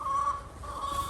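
A chicken clucks softly nearby, a short low burst of throaty clucking over faint background noise.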